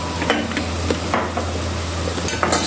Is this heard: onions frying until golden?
yes